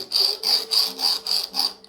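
A high-speed steel burin is ground on half-inch diamond plates to an onglette shape, giving six even, raspy back-and-forth strokes in quick rhythm, close and fairly loud.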